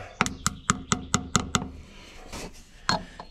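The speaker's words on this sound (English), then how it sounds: "We're just gonna start it in by hand with the hammer." A hammer taps a PTO seal into place on an old Autocar semi truck, six sharp metallic knocks in a steady rhythm followed by a few scattered strikes, close and clear.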